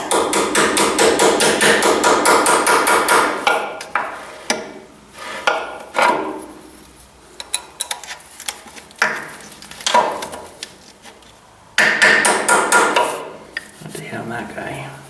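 A hammer strikes a steel key while splitting a 1944 Ford 2N tractor: loud, fast, ringing metallic blows come in bursts at the start and end, with scattered single hits and pauses between them.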